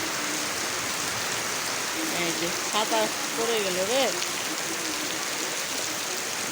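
Heavy rain pours down steadily on a rainy day, a dense, unbroken hiss filling the scene, while a voice calls out briefly over it.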